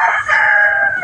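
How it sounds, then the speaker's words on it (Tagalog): A rooster crows loudly in a hot rural province, one long sustained call that fills the whole moment, with no talking over it. "Ah, ang daming manok doon."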